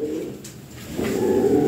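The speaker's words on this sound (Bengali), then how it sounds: "হ্যাঁ, টয় বিটের কবুতর।" Toy bit pigeons give a soft, low rolling coo that fades briefly and then returns stronger, close by against a quiet background hum.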